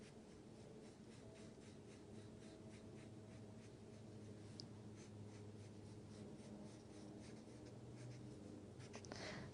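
A pen scratches steadily across paper while sketching a smooth curve for a graph, a soft continuous scribbling with small strokes, close and quiet, with no speech.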